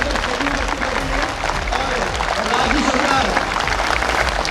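An audience applauds at a public talk with steady, dense clapping that holds for several seconds, with crowd voices mixed into the noise.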